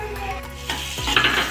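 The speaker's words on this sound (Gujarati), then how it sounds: "હવે કાંદા તળાઈ ગયા છે" Onions fry in a pan with a bright sizzle, broken by a few quick stirring scrapes and clinks against the pan, close and fairly loud, with no voices.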